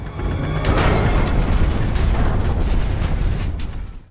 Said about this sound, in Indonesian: ledakan itu membuat Mike dan Jesse tewas